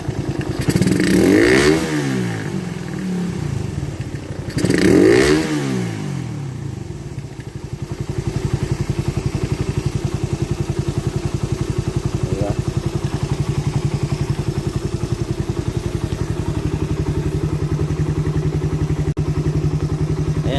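A Bajaj Raider 150 motorcycle engine idles steadily after a jetting change, a close, even putter with two throttle blips early on before settling into a smooth, unbroken idle.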